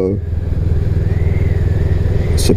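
A Honda CMX 500 Rebel 2020 custom motorcycle engine pulls in fifth gear near 50 km/h, a steady low throbbing drone that rises slightly as it accelerates, close and continuous, with a brief hiss near the end.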